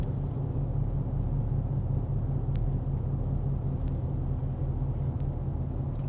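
Steady traffic noise from many cars on a busy Saturday at a coastal park in Cape Elizabeth, Maine, a continuous low rumble with no single car standing out clearly.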